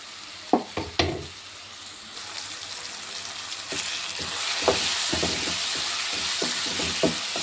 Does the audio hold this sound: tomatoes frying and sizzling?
yes